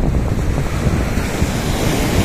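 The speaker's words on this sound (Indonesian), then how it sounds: "Dan ombaknya seperti ini." Heavy ocean waves surge and crash continuously against a rocky coral shore on the coast of Jember, a loud, steady wash of surf with wind noise buffeting the microphone and no voices.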